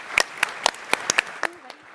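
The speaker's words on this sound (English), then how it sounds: "Let's give them a round of applause." A few scattered, sparse claps ring out in a short burst at a startup pitch competition, sharp and distinct, fading quickly.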